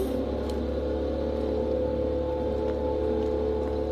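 Gardener's leaf blower running outside, a constant droning whoosh with a steady low hum and no breaks, heard from a short distance.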